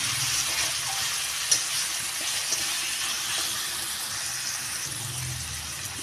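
Onions browning in a pan with four green chilies and chopped tomatoes, a steady broadband sizzle and hiss that stays even throughout with no talk over it.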